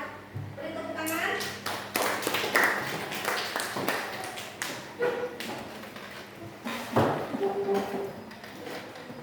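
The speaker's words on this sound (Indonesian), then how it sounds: "Beri tepuk tangan." An audience in a classroom presentation claps in scattered, uneven bursts of sharp taps, with people talking throughout.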